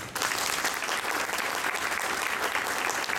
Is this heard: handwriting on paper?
no